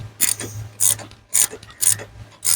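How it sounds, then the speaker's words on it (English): A ratchet tightens down an aluminum adapter holding an ATV implement, giving five quick bursts of clicking at a steady rhythm, close and fairly loud, with a low engine-like hum underneath. "I just got to tighten it down"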